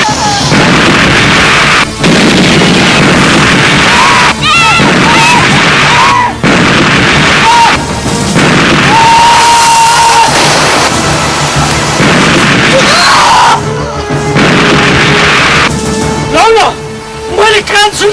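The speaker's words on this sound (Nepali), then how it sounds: "अब बम पड्किन लाग्यो सबैजना भागौ" Loud blasting booms burst out again and again during village road construction, heavy explosive thumps and crashes breaking through a steady roar, with voices heard between them.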